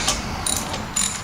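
A ratchet fitted with a 1/4 inch Allen socket works on a Harley-Davidson compensator, giving a few quick close clicking bursts of the pawl in an uneven rhythm.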